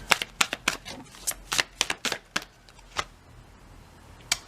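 Animal oracle cards being shuffled by hand during a card reading: a quick run of crisp riffling snaps, easing off into a few separate flicks near the end, close and clear.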